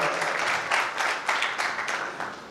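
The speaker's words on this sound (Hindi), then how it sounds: "एक ताली प्रवीण के लिए बनती है।" Audience applause for the host at a Hindi poetry recital held by Northern Railway, a modest crowd clapping steadily and fairly faintly, with no talk over it, fading slightly toward the end.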